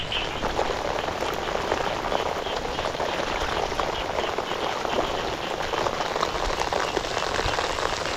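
Heavy rain pouring steadily onto surfaces, a loud, even hiss and patter that continues without pause, with no voices standing out.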